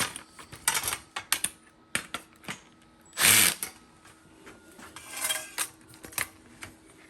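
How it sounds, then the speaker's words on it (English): Someone works at screws in a plastic umbrella gadget, producing close, irregular clicks, scrapes and clattering handling noises with one louder grinding burst partway through. "after trying to get these screws out"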